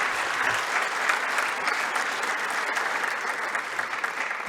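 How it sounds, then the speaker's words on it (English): A conference audience applauds a presentation by Rosanna Costa, governor of the Central Bank of Chile, with steady, dense clapping throughout, even and moderately loud, with no talking. "let's give another round of warm applause to Mrs."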